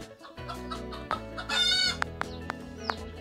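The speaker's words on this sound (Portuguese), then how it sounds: "As galinhas estão ali empoleirando no pé de caju ali" Chickens cluck and a rooster crows close by as the flock settles to roost in a cashew tree on a rural farm in late afternoon, with overlapping rhythmic calls and a few sharp squawks.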